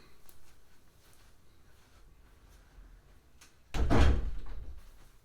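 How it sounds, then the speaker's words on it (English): An office door is shut with a single firm thud in a quiet room, a short solid knock that rings briefly and fades, preceded by low background rustling. "I just had to close my office door"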